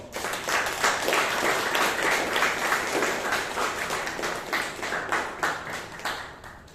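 Members at a Toastmasters meeting give a round of applause, a moderate, crowd-sized clatter of clapping hands that swells early and then gradually softens and thins toward the end.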